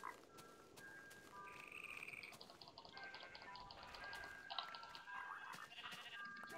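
Minecraft sheep bleat faintly in short, wavering calls, scattered among soft dripping and other quiet in-game sounds, with no one talking.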